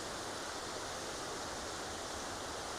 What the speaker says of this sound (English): what happens when you follow Brian. Anyways, he brought us down to this waterfall.